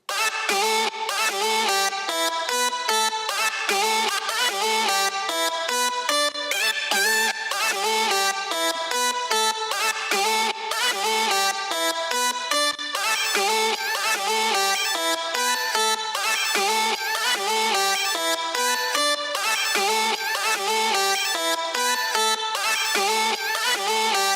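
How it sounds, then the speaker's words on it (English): A soloed synth vocal lead from a music production session plays a busy, rhythmic melodic line with steady stuttering chops, bright and loud throughout, alone with no talking. "the final sound we have here is my vocal lead"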